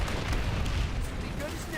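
Frag grenade detonating in the online shooter PlanetSide, a heavy rumbling boom that fills the low end and rolls on for nearly two seconds, loud and close, with voices and game chatter over it.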